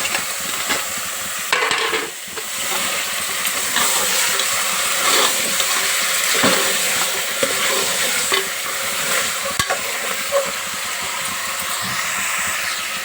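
Mutton that has been washed and cleaned fries in oil in a pan, giving a steady, loud sizzle with a constant hiss. Occasional stirring clinks and scrapes break through without pause, and no one speaks.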